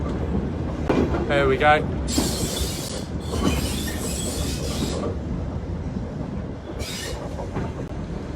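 A heritage train on the South Devon line rolls into Buckfastleigh station, its rumble steady and close with brief wheel squeals and a hiss near the end, while someone says a few words over it.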